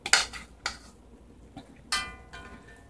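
Cooked shrimp dropped into a pot of Jamaican mackerel rundown, a few sharp clinks and clatters of utensil against pot, spaced irregularly and fairly close, with quiet between them.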